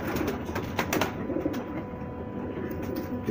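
Saharanpuri pigeons in a loft give low, rolling coos mixed with brief rustling flutters, close by and without any talking.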